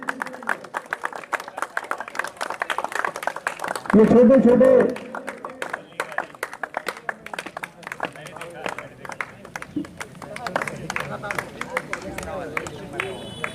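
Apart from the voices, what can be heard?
audience applause for cricket franchise owners at prize ceremony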